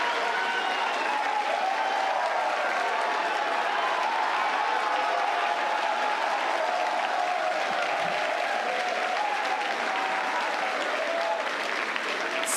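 Crowd cheering and applauding at SpaceX sites in Hawthorne and Starbase during the Starship Flight 10 test, a dense, steady roar of clapping and voices that holds loud throughout with no pauses.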